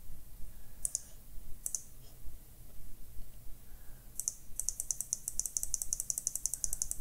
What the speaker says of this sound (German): Klicken einfach hier mal wieder viele solche Buttons hinein.